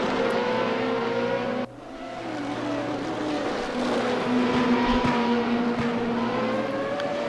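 Formula race cars in the RaceRoom racing game at the Hungaroring scream past at high revs, with a sharp shift and a rising, sustained engine wail and a passing car's whine.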